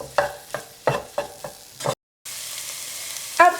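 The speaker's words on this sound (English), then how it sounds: "add all your herbs and spices. Paprika, basil and oregano, and stir well." Herbs and spices, paprika, basil and oregano, stirred into softened vegetables in a pan for a tuna pasta sauce: a run of regular scraping stirs, then a brief gap and a steady soft sizzle with one more scrape at the end.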